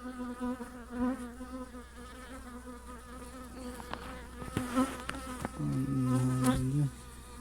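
Honeybees hum and buzz steadily close by at a hive during an inspection, with occasional louder passes and a brief droning swell near the end.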